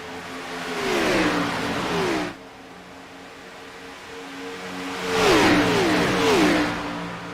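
Race car engines in the iRacing video game at Las Vegas, cars roaring past in two loud bursts of revving with rising and falling pitch sweeps, separated by a quieter steady engine drone.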